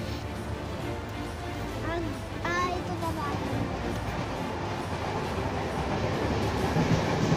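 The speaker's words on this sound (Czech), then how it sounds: "Vlak, že?" A passing train makes a steady, broad rumble that swells slightly and holds throughout, with a voice rising briefly over it early on.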